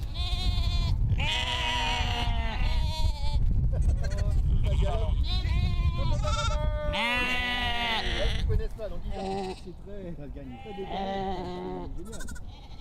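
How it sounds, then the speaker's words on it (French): Ouessant dwarf sheep grazing as living lawn mowers in Paris bleat repeatedly and close by, overlapping wavering calls one after another, with rustling underneath throughout. "C'est un mouton nain le plus petit du monde, originaire de l'île d'Ouessant."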